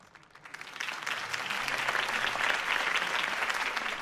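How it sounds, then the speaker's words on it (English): Crowd applause after a campaign speech in a Batman video game, rising quickly from quiet into a full, steady wash of clapping that holds at moderate volume. "could have heard that applause"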